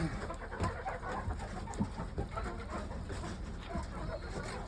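Chickens drinking from poultry drinkers in a shed give soft, scattered clucks over a constant hum of background noise, with faint voices mixed in.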